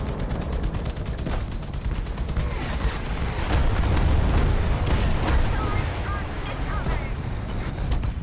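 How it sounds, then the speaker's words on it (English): Dense, continuous battle noise from War Thunder tank combat, with overlapping gunfire, cannon blasts and missile explosions rumbling together at a steady loud level, with no clear voices. "like I hear missiles going all places"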